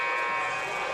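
A loud, sustained end-of-quarter buzzer at a Tampa women's basketball game against Florida Tech, a steady electronic drone lasting the full second.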